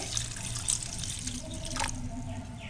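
Water poured from a tap or vessel onto tamarind and two tomatoes for pepper rasam, a steady splashing trickle with light drips, moderately close and alone without talk.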